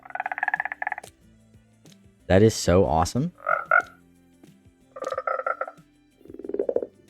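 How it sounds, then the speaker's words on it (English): Frogs in the Minecraft 22w11a snapshot croak in short bursts, several close calls in a row, with a person speaking between them. "I really love the frog sounds."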